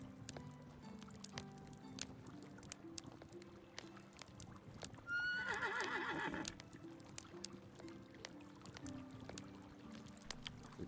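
A horse in the medieval survival game Medieval Dynasty gives one short, loud whinny partway through, over quiet game ambience with faint clopping and water-like sounds.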